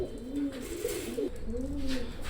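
Oman Teddy pigeons cooing softly nearby, low rolling coos repeating in a gentle rhythm over a faint background hiss.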